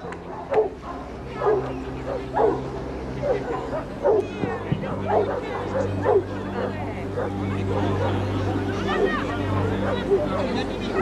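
A dog barking and yipping in short bursts during a water rescue exercise, where it must climb onto a limp person's back, turn them over, grab an arm and bring them in; voices talk alongside and a low steady hum runs underneath.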